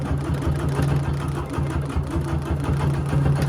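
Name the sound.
sewing machine stitching during free motion quilting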